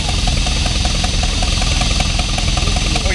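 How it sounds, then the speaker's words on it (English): A 1954 John Deere 60 tractor at a park tractor parade, its engine running loud and close with a steady chugging idle throughout. "We got a 1954 John Deere 60"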